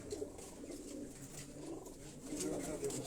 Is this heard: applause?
no